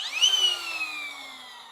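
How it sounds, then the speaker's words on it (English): A Milwaukee M18 FUEL brushless 10-gauge nibbler motor whines sharply at high pitch, then keeps spinning on as it slowly runs down, its tone sliding gradually lower and fading over a couple of seconds. "you hear that whine, you hear it running on for a while"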